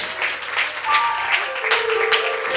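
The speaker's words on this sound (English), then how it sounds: "Clap your hands and give God praise" A church congregation claps their hands in praise, a steady crowd of clapping at moderate loudness with faint sustained tones underneath.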